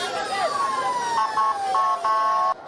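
An ambulance siren wails as the vehicle pulls away from a prison, the tone sweeping down and then pulsing in a loud, repeating yelp over steady traffic and street rumble.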